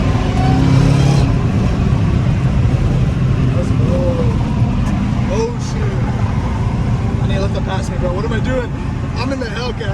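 A twin-turbo Lamborghini accelerates through downtown LA streets at night, heard from a following car as a loud rumbling engine drone with surges and pops, while people talk excitedly over it.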